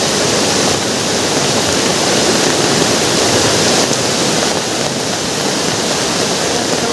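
Steady, loud rushing river water, a dense continuous roar with no pauses and no voices.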